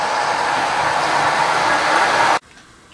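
Several model train locomotives run together on a layout with an NCE control system, a steady loud whirring rumble that cuts off abruptly near the end, leaving quiet room tone.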